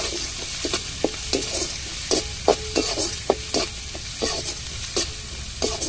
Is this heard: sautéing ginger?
yes